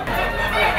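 A gold stag rooster at a poultry auction market in Lipa gives a brief, loud, close crow or cluck that fills the short moment.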